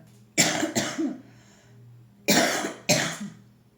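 Two pairs of sharp coughs, close and loud, separated by a short pause with faint room hum in between.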